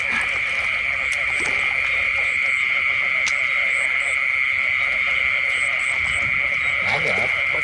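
Frogs call at night beside an old jackfruit garden, a dense, continuous high chorus of croaks and trills with a few louder nearby calls and faint rustling underneath.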